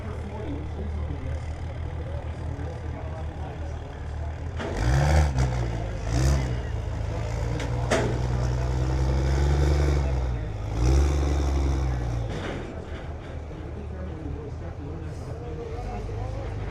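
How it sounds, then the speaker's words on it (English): Cummins diesel truck engine rolling onto a dyno at a diesel truck show, deep low rumble swelling in several revs and surges over a busy outdoor crowd, with people talking. "another Cummins is rolling up to the dyno."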